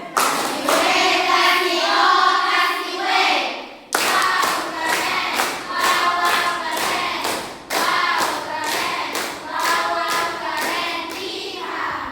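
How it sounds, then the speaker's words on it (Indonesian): An audience breaks into rhythmic group clapping at a classroom-style talk, three bursts of steady, close, loud hand claps separated by brief pauses, with no talking over them. "Tepuk tangan untuk Amen"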